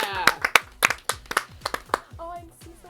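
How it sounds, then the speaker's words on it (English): A short burst of sharp, separate hand claps from a studio, close and uneven in rhythm, with voices talking around and after them. "We'll give you a round of applause from the studio."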